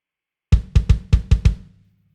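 Six punchy, deep kick drum hits from a heavily pitched-down kick sample in a quick uneven pattern, low and boomy with a short tail, playing alone.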